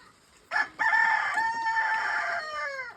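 A rooster crows once, close and clear, in a drawn-out call of about two seconds, among free-ranging chickens let out to feed on a sorghum field; a brief cluck comes just before the crow.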